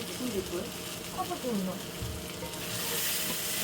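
Bitter gourd and potato fry in a pan with a steady, close sizzle and the scrape of stirring, and the hiss grows louder toward the end while a person talks over the cooking.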